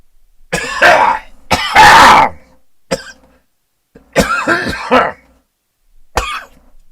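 Several harsh, loud coughs and throat clearings come in bursts with short pauses between, close up and raspy.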